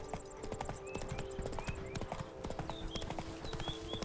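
Geralt's horse Roach clip-clops steadily in The Witcher 3, the hoofbeats close and continuous over game ambience, with a few faint bird chirps in the background.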